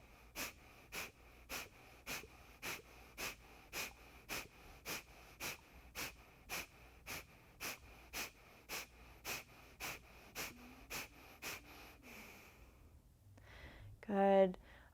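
Forceful yogic breathing during a solar plexus chakra yoga flow: about twenty sharp, evenly spaced exhalations, close and rhythmic, then a louder breath at the end.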